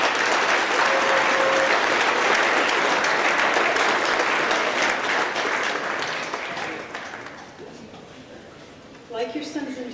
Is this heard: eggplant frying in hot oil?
no